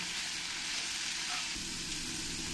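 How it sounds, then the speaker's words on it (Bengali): Onion and onion paste frying together in a pan for a quail curry, a dense, even sizzle heard up close with no breaks. "এই পেঁয়াজ পেস্টটা দিয়েও ভালো করে আমি এই পেঁয়াজের সঙ্গে একসঙ্গে কষিয়ে নেব"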